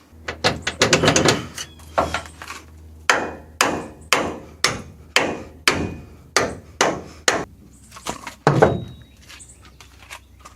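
Metal banging rings out while the rear bumper comes off a rusty truck with a 6.0 engine, about a dozen loud, sharp blows landing in an even rhythm, starting with a fast flurry.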